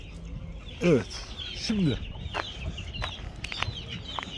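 A chick in a goose and chicken coop gives a few thin, high cheeps among clucking fowl, close by, while someone talks over them.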